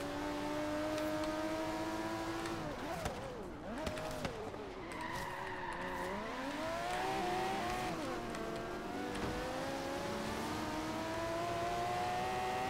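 Mercedes CLK GTR race car in Forza Horizon 3, its engine droning in rising and falling pitch through gear changes, with tire squeals and skidding mixed in, loud and close with no talk.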